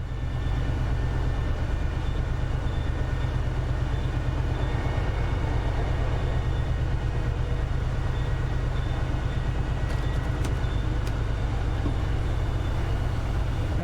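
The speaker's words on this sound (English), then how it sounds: "We're going to give some strong braking this time because we're coming into the station fairly hard, 50 odd miles an hour" Steady rail rumble of an HSP46 diesel locomotive on an MBTA commuter line in Train Sim World 5, running continuously and evenly with a low heavy drone, a few faint high squeals near the end as braking begins.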